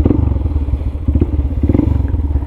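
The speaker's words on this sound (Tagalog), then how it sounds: "Pinainit ko lang yung makina. Ayaw ko kasing rumatrat ng agad-agad eh." A motorcycle engine idles while warming up before a solo ride, a loud close steady low putter with rapid even pulses and a little mechanical clatter.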